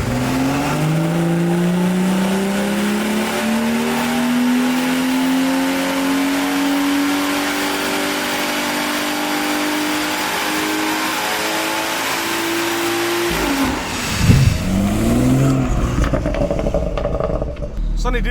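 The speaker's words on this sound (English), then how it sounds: "He was wheel spinning on the dyno." A BMW F80 M3 Competition tuned to Stage 2 Plus runs hard on a dyno, its engine note climbing steadily through the gears for about thirteen seconds before dropping and blipping again. Voices talk faintly underneath.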